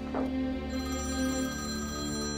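A telephone rings in a Turkish TV drama scene with a close, steady electronic ringing tone that runs unbroken throughout, with no voices.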